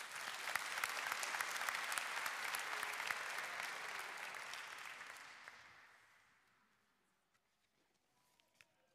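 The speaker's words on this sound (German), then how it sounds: "auch ihm wollen wir wenigstens einen kurzen Applaus geben" A short round of applause at a 2020 graduation ceremony honours a graduate in absentia, with moderate, steady clapping from an audience that fades away to near silence after about six seconds.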